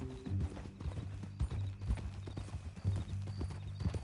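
Horse hooves clip-clop steadily in Red Dead Redemption 2, a close, even walking rhythm over a low ambient hum, with an occasional snort mixed in.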